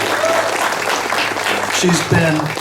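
A round of applause from the crowd at a Mountain House chamber of commerce ribbon cutting, brief, fairly close clapping under which a few voices speak.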